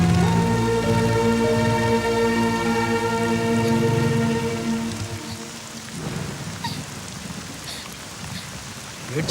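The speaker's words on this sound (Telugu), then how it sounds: "వర్షం పడుతుంది" Heavy rain pours steadily in a film scene, a dense continuous hiss that stays loud throughout, with sustained music layered over it for roughly the first half before the downpour carries on mostly alone.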